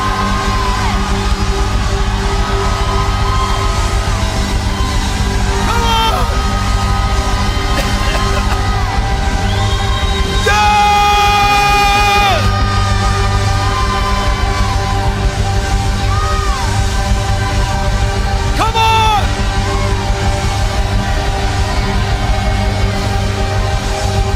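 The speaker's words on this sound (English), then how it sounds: "raise up your voice and shout" A church congregation shouts and cheers loudly in a sustained roar, with whoops and yells rising over the crowd noise and musical tones underneath.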